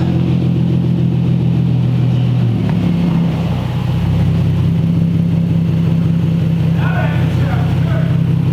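A modified-exhaust Infiniti makes a fly-by with a strong low engine drone that shifts pitch as it passes and then holds a steady note, with faint voices near the end.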